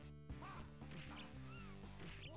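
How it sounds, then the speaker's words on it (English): Squawking, quacking bird calls in the Comix Zone video game, short chirpy sweeps repeating over steady game music and faint hits, all fairly quiet. "Are those making actual bird noises now?"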